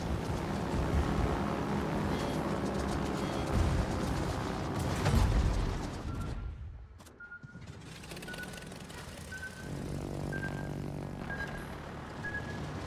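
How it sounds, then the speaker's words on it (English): A torpedo strikes a ship in a naval battle video game, giving a heavy, rumbling blast that swells and then drops away, followed by quieter engine drone and a series of faint, regularly spaced beeps. "Let's go, torpedo hit."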